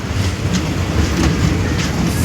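A passenger train rumbles along on the Khagraghat to Katwa line near Katwa station, a loud steady low roar with faint rhythmic clatter throughout and no speech.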